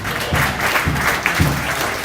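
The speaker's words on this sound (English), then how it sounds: "Let's give him a round of applause for him." A small cafe audience at a live jazz quartet gig applauds briefly and warmly, a short burst of crowd clapping with a few murmured voices.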